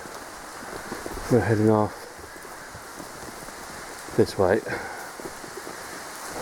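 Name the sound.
rain falling on a countryside walk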